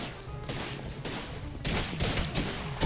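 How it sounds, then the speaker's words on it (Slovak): Gunfire rattles through an Apex Legends match: dense bursts of shots and sharp impacts grow louder and heavier toward the end, set against a constant noisy game backdrop. "A strieľaj hentou za tebou, Tobias!"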